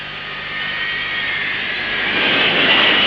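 Airliner jet engines roar on reverse thrust just after landing, a loud, steady broadband rush that swells and grows stronger toward the end, with no voices over it.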